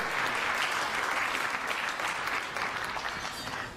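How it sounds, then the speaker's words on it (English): A keynote audience at TiECON Midwest 2016 bursts into sustained applause, dense clapping from many hands at even loudness that tapers slightly near the end. "I think if you should give a round of applause for that, guys."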